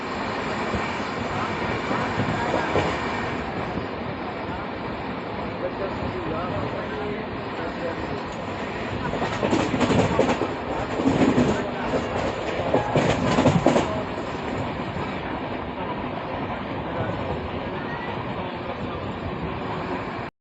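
A Malwa Superfast Express train runs with a steady rumble and rattle, and bursts of louder clatter mid-clip as the Jammu Mail crosses it. Voices can be heard.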